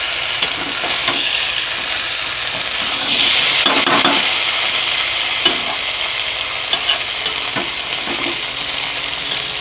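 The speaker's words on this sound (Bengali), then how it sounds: "এবার একটু মানে অল্প একটু কষিয়ে নেবো মশলাটা।" Fried potatoes and masala sautéed in a wok give off a loud, continuous sizzling hiss, with the rough scrape of stirring swelling and easing throughout.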